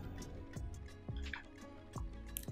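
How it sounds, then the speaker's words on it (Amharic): Water dripped into eggless banana cake batter while stirring, soft wet drips and squishy mixing sounds recurring every half second or so, quiet and close with no talk. "ትንሽ ወፈር ሲልብን ውሃ እንጨምራለን።"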